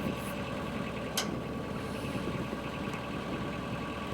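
A tractor engine drones steadily while lifting a 680-pound load with a boom, a continuous laboring hum with one brief sharp click partway through.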